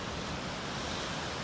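Storm-driven ocean waves crash continuously on the shore with a dense, roaring wash, loud and unbroken, mixed with gusting wind buffeting the microphone.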